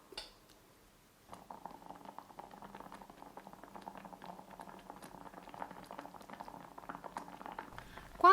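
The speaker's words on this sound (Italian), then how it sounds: "Faccio bollire per qualche minuto mescolando ogni tanto." Raspberries, sugar and water boil steadily in a small pot, a dense bubbling and popping patter that starts after a short quiet moment and continues at even volume, with a brief louder clatter at the very end.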